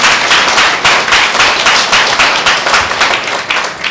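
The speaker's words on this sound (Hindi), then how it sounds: "उस परमेश्वर के लिए जोरदार ताली देते हैं।" A church congregation at a Tuesday meeting claps loudly for God, a close, dense burst of many hands striking in quick, slightly pulsing rhythm for a few seconds.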